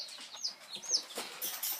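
Small chickens peep and cluck in short, high chirps, close by and fairly steady, with no talking.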